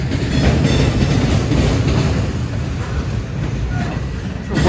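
A CSX freight train rolls past at close range during switching, giving a loud, continuous rumble and rattle of railcars with steady rail noise throughout.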